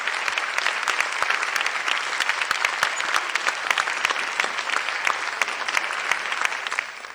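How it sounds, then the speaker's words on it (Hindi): Loud, dense applause from the audience at a Hindi poetry recital show welcoming a poet to the stage, with sharp individual claps standing out within an even, sustained roar that eases slightly at the close. "जोरदार तालियों से मंच पर स्वागत करते हैं।"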